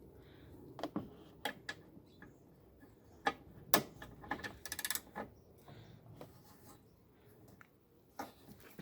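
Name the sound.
13 mm socket ratchet removing a bolt on a Citroen Berlingo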